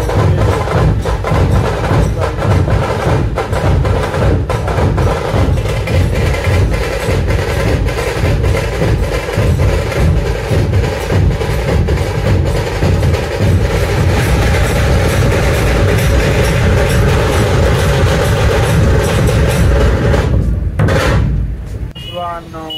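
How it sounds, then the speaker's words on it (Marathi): Loud continuous rumble and clatter of a metro train passing close by, steady throughout before easing off near the end, with voices faintly underneath. "मेट्रो"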